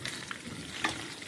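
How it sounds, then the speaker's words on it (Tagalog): Chicken frying in a pan for chicken biryani, a steady soft sizzle and crackle heard up close with a brief sharper spatter partway through, no talking. "gi-fry ko na yung chicken"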